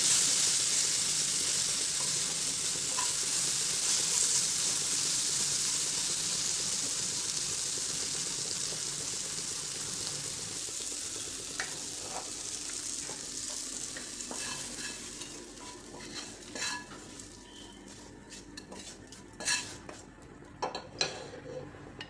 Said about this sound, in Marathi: आता दुसरी साईड पण परतून घ्यायची आता झाकण नाही ठेवायचं